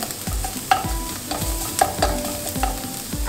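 Garlic frying in a pan for lumpia, a soft steady sizzle with several brief scraping stirs of a utensil against the pan, close and moderately quiet, no talking.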